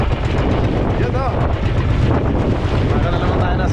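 Strong monsoon wind at sea roars steadily across the microphone over churning waves from a boat, with a voice briefly audible beneath the constant buffeting rush.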